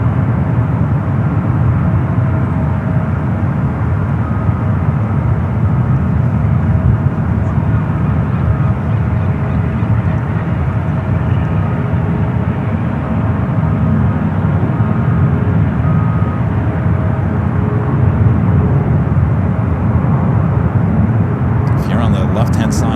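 Steady, loud roar of an airliner's jet engines as it banks into a turn heading east from San Francisco airport, a continuous low rumble throughout with no pauses.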